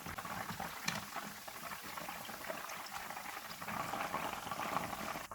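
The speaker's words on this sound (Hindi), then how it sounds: "इसी तरह से बाकी भी फ्राई कर लेंगे।" Chicken pieces frying in hot oil give a steady, dense bubbling crackle that holds at one level for the whole stretch, with no voices.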